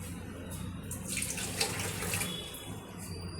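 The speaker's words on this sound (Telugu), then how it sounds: "ఈ వాటర్ని మనం రిమూవ్ చేసేద్దాం" Water pours and trickles off homemade paneer curds as they are drained, a soft, steady splashing flow close by with no talk.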